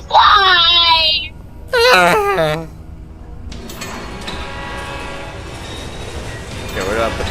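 A train sounds a loud wailing horn in two long blasts, followed by the broad rumble of the train rolling past close by.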